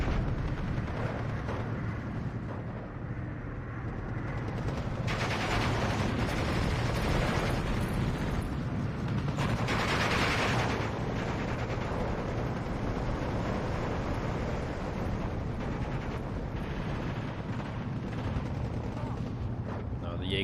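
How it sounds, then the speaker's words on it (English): Bombing run on T-34 tanks in the Steel Division 2 wargame: dense rolling explosions and crackling gunfire run continuously, with heavier blasts clustered around the middle. "Bombing run on T-34s"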